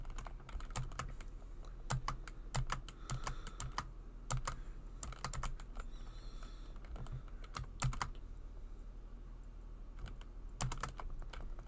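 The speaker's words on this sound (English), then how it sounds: "Hopefully my keyboard clicking isn't too obnoxious." Computer keyboard typing during a livestream: irregular bursts of crisp key clicks, close to the microphone, with short pauses between runs and no talking.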